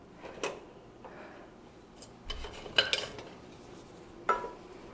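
Pot set onto a tabletop stove, with a few separate metallic clanks and cookware knocks, the strongest near the middle and another just before the end, with quiet stretches between and no speech.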